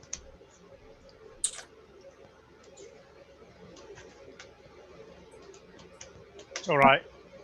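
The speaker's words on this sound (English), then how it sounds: "I'm clicking around the screen trying to find it." A computer mouse clicks during an online Rotary Club meeting held over video call. There are a few sparse, faint clicks spread across a low background hum, with a short, louder vocal sound near the end.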